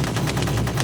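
Rapid automatic gunfire in a Vietnam War documentary scene, a dense burst of loud, evenly spaced shots running without a break for under a second.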